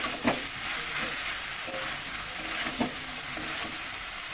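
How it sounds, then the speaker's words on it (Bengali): Soybean chunks are stirred into a sizzling spiced Bengali potato curry in a pan. A steady fry crackles underneath, and a few distinct spoon scrapes land near the start and again toward the end. "যে সয়াবিনগুলো ছিল সেগুলো দিয়ে দেবো এর মধ্যে। এতে সয়াবিনের মতো মশলাগুলো ভালো করে মাখা হয়ে যাবে।"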